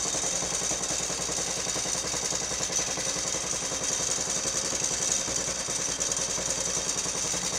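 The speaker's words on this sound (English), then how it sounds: "Will it idle? Yes, it does. That rattle you're hearing is a clutch." A John Deere STX38 Black Deck lawn tractor engine idles steadily nearby, its even mechanical chug overlaid with a constant rattle from the clutch.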